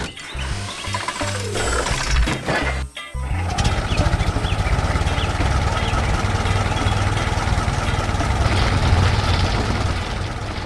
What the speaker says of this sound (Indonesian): Traktor ungu bekerja keras di ladang